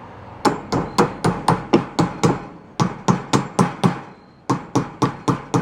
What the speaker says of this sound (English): Literally going to break the hammer when I'm doing this.